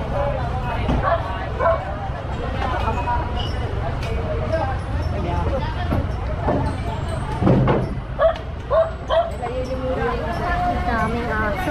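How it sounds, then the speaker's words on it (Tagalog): Several dogs bark and yip in a busy Manila barangay street, sharp irregular bursts at moderate distance over steady outdoor ambience and background chatter. "Daming aso, daming manok."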